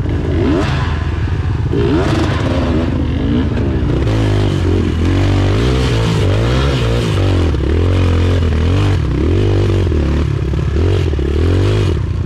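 An enduro dirt bike engine labors and revs on a steep uphill trail, loud and close throughout, its pitch rising and falling as the rider fights for traction, with a brief voice over it.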